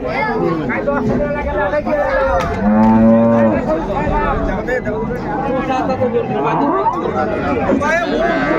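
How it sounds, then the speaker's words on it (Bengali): Dairy cows and calves moo at a busy cattle market at Raniganj haat in Dinajpur, one long, loud low moo standing out midway among overlapping speech and crowd chatter throughout. "গাভী বাছুর আমরা দেখছিলাম এখানে"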